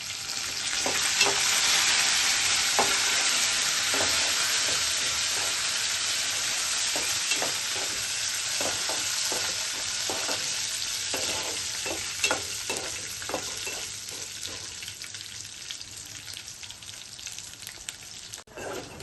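Curry leaves and dried red chillies fry in hot oil for a gongura chutney tempering: a steady, close sizzle with scattered sharp crackles and pops that thin out slightly toward the end, with no talking.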